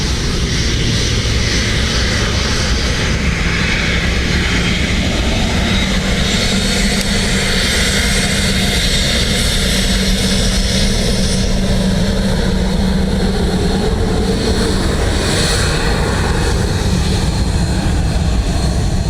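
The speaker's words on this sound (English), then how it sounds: "You'll just see an ATR, I think by the sound of things, pop into view" ATR turboprop airliner at Dublin Airport, a loud sustained propeller and engine roar holding steady across the whole stretch from the far runway, with no talk over it.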